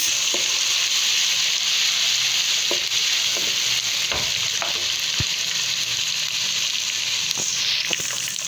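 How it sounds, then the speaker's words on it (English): Ginger garlic paste sautéing in a hot oiled pan, a steady loud sizzle throughout with occasional scrape-like clicks from stirring. "and I'm gonna add the ginger garlic paste. We have to saute it for 2 minutes."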